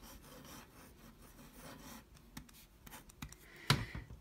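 A thin-tipped pen scratches across paper in close, quiet strokes, a soft raspy rubbing with a few sharper ticks and one brief louder scrape near the end, no voices.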